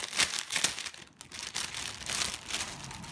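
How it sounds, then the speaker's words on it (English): Plastic packaging around a silk hanky crinkles in repeated bursts, close and fairly quiet, with uneven handling rhythm and no talking. "Sorry for all the crinkling."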